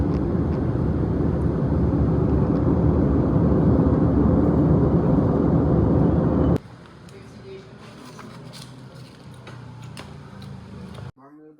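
A steady, loud broadband roar fills a jet airliner cabin in flight on the way to Istanbul. It cuts abruptly to a much quieter, thinner ambience partway through, with no talking.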